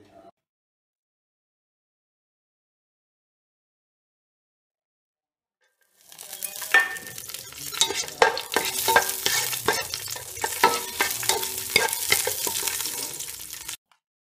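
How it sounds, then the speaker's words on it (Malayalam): Cashews frying in ghee while being stirred for broken wheat laddu: after several seconds of silence, a crackling sizzle starts with scraping stir strokes and rattling nuts, continuing steadily to the end. "കശുവണ്ടി വറുത്തെടുക്കുക."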